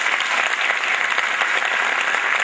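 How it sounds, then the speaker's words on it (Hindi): Dense, steady audience applause after a play fills the whole stretch, many hands clapping at once with no voices rising above it. "मुझे लग रहा है एक तालियां इसके लिए होनी"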